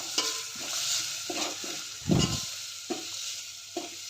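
A ground paste of chilli, coconut, garlic and cumin sautés in hot oil with a steady sizzle, broken by repeated scraping stirs and one louder clatter of the spatula against the pan, close up.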